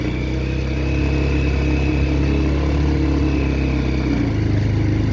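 Motorcycle engine straining in third gear while climbing a steep hill road at Chimbuk, a loud, steady low drone close by with no talk over it.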